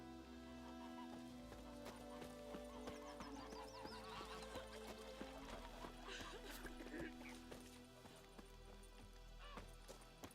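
In The Witcher 3: Wild Hunt, a horse whinnies with a rising and falling neigh over a busy game soundscape of hoof clops, faint birds and background ambience.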